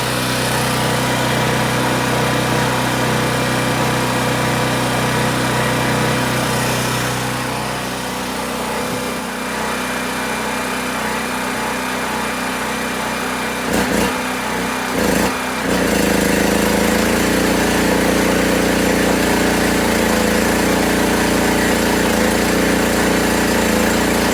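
A Harbor Freight 4000 watt portable generator runs continuously close by, a loud steady engine drone. Its pitch and load shift audibly partway through as a welder draws power, and no one speaks.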